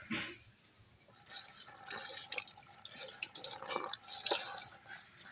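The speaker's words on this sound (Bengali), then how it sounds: "কচু পাতাটা তোলা হয়ে গেছে এবার ধুয়ে নেব" Young taro leaves are rinsed under a running tap in a kitchen sink, with a steady splashing hiss of water and irregular louder gushes as the leaves are moved beneath the stream.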